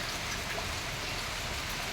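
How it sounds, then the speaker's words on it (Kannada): Heavy rain pours outside, a dense, even hiss of falling water, fairly soft and unbroken, with no voices. "ಸಿಕ್ಕಾಪಟ್ಟೆನೇ ಮಳೆ ಬರ್ತಾ ಉಂಟು ಹೊರಗಡೆ ಫುಲ್ ಮಳೆ ಬರ್ತಾ ಉಂಟು ನಿಮಗೆ ಬ್ಯಾಕ್ಗ್ರೌಂಡ್ ಸೌಂಡ್ ಕಿರಿಕಿರಿ ಕಿರಿಕಿರಿ ಅಂತ ಕೇಳಿಸ್ಬೋದು"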